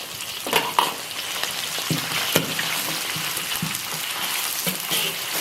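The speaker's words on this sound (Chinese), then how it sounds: "锅里倒油，下入葱姜、干辣椒、花椒、八角、桂皮、香叶、小茴香。" Dry chilies, Sichuan peppercorns, star anise, cinnamon, bay leaves, fennel, scallion and ginger frying in oil with chili paste and soybean paste; a close, busy sizzle and crackle with spatula scrapes and knocks against the wok.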